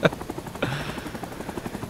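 Helicopter flying in the video game Rising Storm 2, a steady rotor chop with a rising engine whine that kicks in partway through, moderately loud and continuous.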